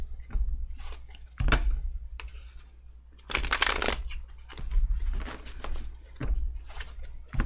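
Tarot cards are shuffled in quick bursts of riffling and slapping, close up, with short pauses between shuffles and no talking.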